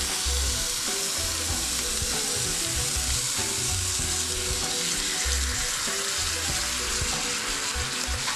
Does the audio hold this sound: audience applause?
no